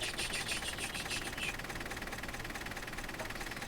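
A steam locomotive in the Trainz railway simulator chuffs in quick, even pulses that fade after the first second and a half into a steady mechanical hum, heard alone without speech.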